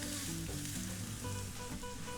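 Steady close sizzling of chopped onion frying in oil in a pan, with occasional stirring scrapes, continuous and fairly quiet with no talking.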